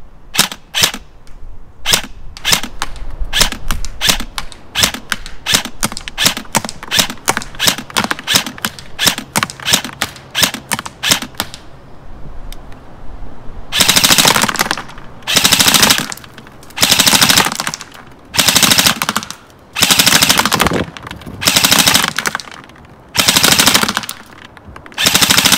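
An airsoft gun loaded with 0.28 BBs fires a run of sharp single semi-auto shots, then switches to loud full-auto bursts of rapid rattling fire separated by short pauses.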